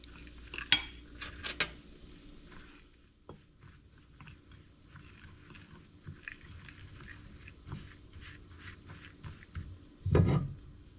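Avocado oil being mixed into a crumbly French toast casserole topping, quiet scraping and clinks of a utensil against a dish in uneven strokes, with a louder knock near the end and no talking.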